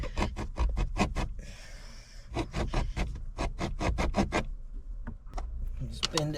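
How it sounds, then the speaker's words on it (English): A small hacksaw cuts through plastic on a Holden VF Commodore dashboard in quick, rhythmic back-and-forth strokes, close and distinct, with a brief pause midway before the sawing resumes. "a little hacksaw and cut to that line"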